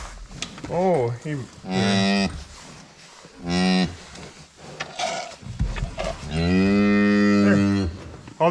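On a farm during calving season, a cow close by lets out several loud, drawn-out moos separated by short pauses, with a last call rising near the end.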